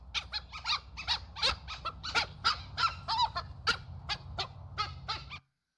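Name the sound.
dhole whistling call recording from San Diego Zoo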